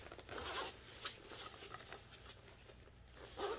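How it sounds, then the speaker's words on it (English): A zipper on a Cricut storage bag being zipped, a soft scratchy zip running continuously with a few stronger pulls, close and fairly quiet. "And then it zips all the way around."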